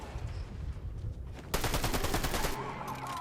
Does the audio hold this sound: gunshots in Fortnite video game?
yes